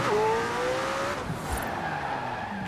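A McLaren Senna in the racing game Forza Horizon 4 drives hard, its engine note rising then easing as tires squeal and skid, loud and continuous with no speech.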